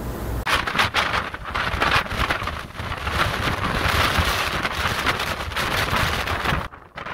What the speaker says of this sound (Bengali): বাতাসের প্রচণ্ড গতি, একদম দাঁড়িয়ে থাকা যায় না